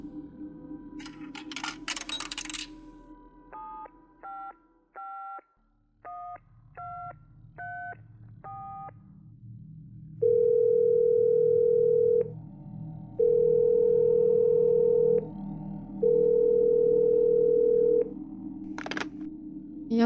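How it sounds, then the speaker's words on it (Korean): Coins drop into a payphone outside a shop, then its keypad beeps through a number as a run of short, evenly spaced tones, followed by three long, steady ringback tones with gaps between them, close and clear. "난 슈퍼 앞에 있는 공중전화에 동전을 넣고 떨리는 손으로 집 전화번호를 눌렀습니다."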